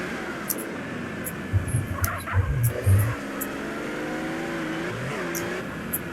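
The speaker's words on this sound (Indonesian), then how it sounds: "Oh, mobilnya kencang loh guys." A fast sports car in GTA San Andreas accelerates with a steady, revving engine drone, broken by a few low thumps partway through, with no talking.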